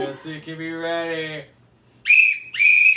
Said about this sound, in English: I'm getting my whistle